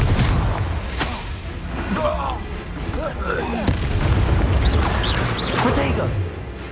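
Repeated Confringo spell blasts in Hogwarts Legacy, booming bursts and pops in a dense, continuous game soundscape, with a voice shouting over the explosions.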